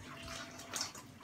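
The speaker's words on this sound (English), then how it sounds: "now I'm going to tip away the water and then I'm going to mash the potatoes." Water from a pan of boiled potatoes being tipped away and drained, a short, close rushing splash of liquid pouring out, heard alone.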